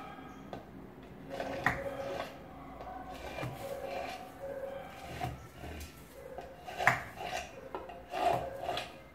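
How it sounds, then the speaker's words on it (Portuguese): Metal skewer scraping and piercing through meat, a string of rough rasping scrapes and small knocks of uneven rhythm, close and moderately loud with no talking. "vou primeiro furar com esse espeto de metal aqui"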